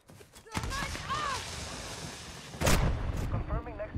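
Marksman rifle gunshots in a video game: two loud, sharp booming cracks, one early and one later, ringing out among chatter and voices.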